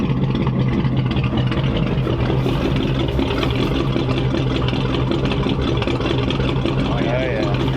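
A flathead engine runs steadily through old shop exhaust tubes in a workshop, giving a hollow, dual-exhaust-like tone; a continuous loud mid-pitched drone with voices talking over it.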